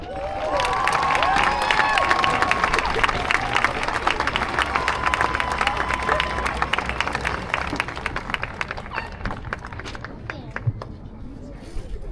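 Graduation ceremony audience giving a long, loud round of applause with cheering, dense clapping that holds steady before slowly thinning out, with crowd voices and whistles mixed in.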